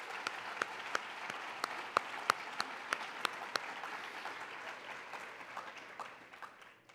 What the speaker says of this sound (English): So let's give them a round of applause and thank you for being here today.